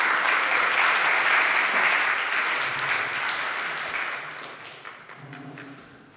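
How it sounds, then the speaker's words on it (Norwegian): A conference audience applauds loudly, the clapping gradually thinning and fading out over several seconds. "Ta ham godt imot med en stor applaus."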